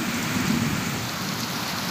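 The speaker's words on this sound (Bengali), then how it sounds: "এখন কি সুন্দর বৃষ্টি" Heavy rain pours steadily in a rural village setting, an unbroken close hiss of drops striking surfaces with a faint low rumble beneath, and no voices.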